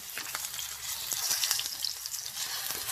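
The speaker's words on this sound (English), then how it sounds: "Now we're just going to start flipping these and frying them on the other side." Steady, dense sizzling of Caribbean food frying in a hot pan, flipped and charring, with occasional crackles and pops; no voices.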